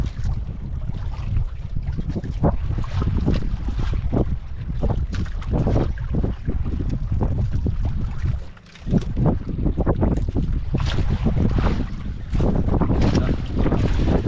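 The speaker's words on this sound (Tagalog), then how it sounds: "Malakas ang hangin." Strong wind roars and buffets the microphone steadily, with the churn of a fishing boat moving through rough sea water underneath.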